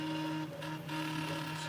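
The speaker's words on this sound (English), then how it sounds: "All right, here we go. They're printing." A Prusa 3D printer prints steadily, its stepper motors giving a close, continuous whine with a brief dip in the middle of the run.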